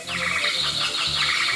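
Flutter Friends toy birds in a birdhouse give off a steady stream of thin, electronic chirps and tweets over a low hum, close and fairly loud, with no one speaking.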